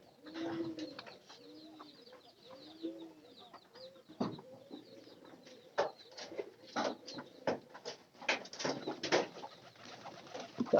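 Soft, repeated cooing of pigeons close by in their coop, joined later by scattered clucks and rustling.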